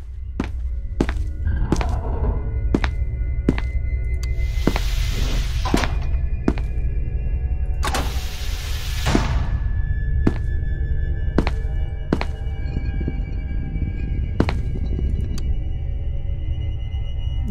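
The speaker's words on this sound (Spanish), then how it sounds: "Le he escuchado a la estatua, ¿eh? Moverse." The statue creature moving in the horror game SCP Containment Breach: sharp repeated stone thunks at uneven intervals, plus two longer harsh scraping grinds, loud and close over a low droning ambience.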